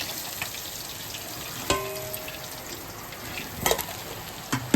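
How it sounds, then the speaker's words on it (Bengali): Fish frying in oil, a constant low crackling sizzle broken by a few sharp knocks and clatters of a utensil, close and with no one talking. "এই মাছগুলো ভেজে নিচ্ছি।"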